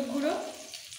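Spices, salt, turmeric and chopped tomato stirred in a hot frying pan for a katla fish curry with cauliflower, giving a brief close sizzle and scraping stir that fades within a second.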